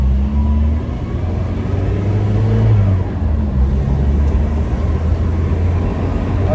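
Car pulling away as the clutch is let out slowly, a loud close engine rumble that swells briefly then holds steady, heard from inside with no talking.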